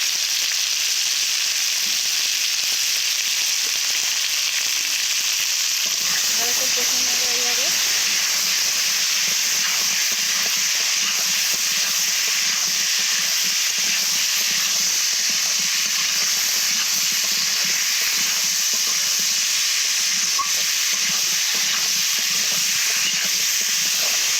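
Turmeric and dried red chili frying in hot oil for a Rupchanda fish curry, giving a steady bright sizzle that runs the whole time, with a brief stir or clatter early on.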